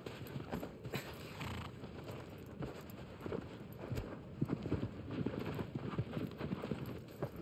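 Horse hooves clip-clop steadily in the Shadow of the Colossus video game, a fairly quiet, continuous rhythmic beat of steps under a low wind-like background.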